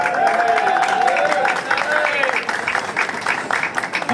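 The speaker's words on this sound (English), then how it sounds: "Let's give her a round of applause" Crowd applauding Senator Nelly Poe at a Puerto Rico gathering, steady dense clapping with cheering voices mixed in near the start and chatter running underneath throughout.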